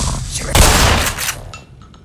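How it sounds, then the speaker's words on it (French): Pump-action shotgun blast in the video game Black Mesa, a Half-Life remake: one loud, close boom with a sharp crack that rolls off over a second or two, alone without talk. "Leur mettre un petit coup de fusil à pompe."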